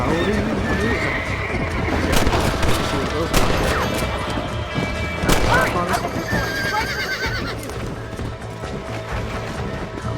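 In the video game Red Dead Redemption, a horse whinnies loudly amid galloping hooves and sharp gunshots, with a busy game soundscape throughout.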